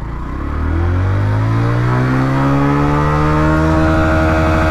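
A Honda Livo 110cc motorcycle pulls away in first gear, its engine note rising steadily into a loud, close, continuous rev with strong harmonic whine, with no one speaking.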